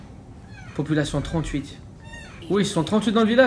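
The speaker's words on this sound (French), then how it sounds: "J'avoue, je crois que c'était un chat" A cat meows in the video game Far Cry 5, two short bursts of harmonic mewing that stand out clearly over in-game French speech and background sound.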